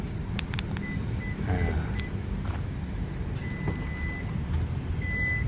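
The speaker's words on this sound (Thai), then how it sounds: "ฝาท้ายเป็นฝาท้ายไฟฟ้านะครับ" Electric tailgate on a 2010 Lexus RX350 opening, with repeated high chiming warning beeps and a faint motor hum over a low idling rumble, close by and without talk.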